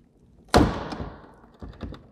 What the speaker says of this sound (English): So I'm going to pull back at the bottom and then see if I can lift the door up.